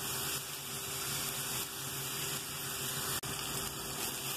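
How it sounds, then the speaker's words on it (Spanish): Chopped chorizo colorado fries in a pan with a loud, dense, continuous sizzle, close up and steady throughout, with a single brief dropout near the end. "ahora ya estoy sofriendo mi chorizo colorado picadito"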